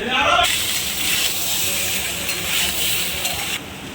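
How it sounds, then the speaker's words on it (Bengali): Soaked potatoes go into a pan of hot spiced oil for a Bengali dish, producing a sudden loud hiss that settles into a steady close sizzle, with no talking over it. "এবার আমি আলুটা দিয়ে দেবো, ভিজে রাখা আলুটা।"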